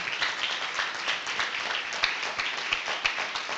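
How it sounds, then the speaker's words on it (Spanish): Congregation clapping in a church service, a dense steady round of applause, moderately loud, with no talk over it. "Dale un fuerte aplauso al Señor."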